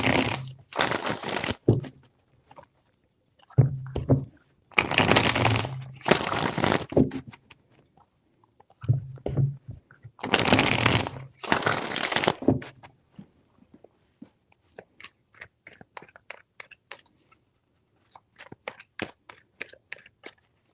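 Tarot cards are shuffled in three loud bursts of riffling and shuffling with pauses between them, followed by fainter, scattered card handling and flicking.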